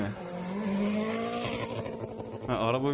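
Racing cars, including a Supra, roar through a car video with a steady engine drone that rises in pitch, then a sharp shift near the end, all loud and continuous with no talk.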